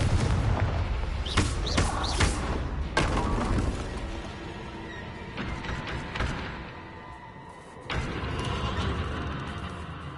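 Confringo spell blasts in Hogwarts Legacy, several loud booming explosions with crackling debris in the first few seconds, followed by quieter mechanical rumbling and another burst later.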